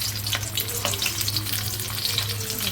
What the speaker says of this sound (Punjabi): ਤੇਲ ਗਰਮ ਹੋ ਗਿਆ ਤਾਂ ਇੱਕ ਇੱਕ ਕਰਕੇ ਛੱਡਦੇ ਹਾਂ ਵਿੱਚ